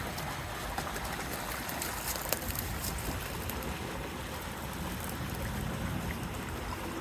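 Fast-moving water in Mill Creek rushes and splashes in a steady, fairly quiet broadband wash, with no talking.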